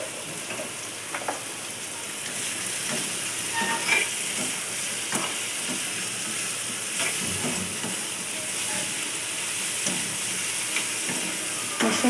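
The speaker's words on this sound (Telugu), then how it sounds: "మష్రూమ్స్ అన్నీ బాగా వేగాలి" Salted mushrooms frying in a pan for a mushroom curry, a steady close sizzle and crackle with occasional stirring clicks throughout, no talking.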